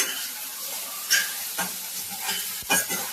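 Green chillies and tomatoes sizzling in a pan while a spoon stirs them, a steady hiss with a few scraping strokes and clinks close by.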